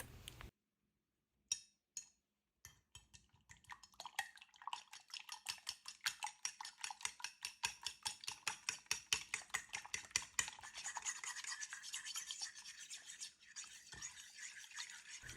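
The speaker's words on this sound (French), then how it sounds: "je casse mes 2 gros œufs et je les fouette directement à la fourchette" Two large eggs are whisked with a fork in a deep dish: a few separate clinks first, then a fast, rhythmic run of light tapping strokes against the dish, close and clear.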